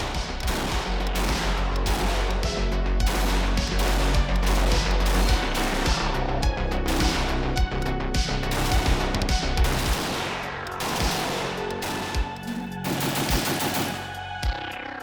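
A 5.56 AK rifle fires rapidly, loud close shots in fast bursts and quick strings that carry on across the whole stretch, with echoing reports at an outdoor range.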